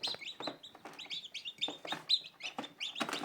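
High, thin cheeping from several small chicks, rapid overlapping peeps in a steady chorus, fairly close with no talking.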